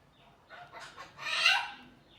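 A pet bird calling out indoors, a short rising squawk that builds to a loud, harsh peak and then fades, heard close and alone.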